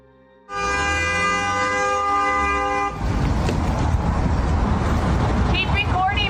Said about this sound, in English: shouting at the top of her lungs and honking her horn